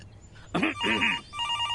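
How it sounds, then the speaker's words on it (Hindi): A telephone rings indoors during a Hindi film scene, with short bursts of ringing followed by a steadier tone. "फोन आया।"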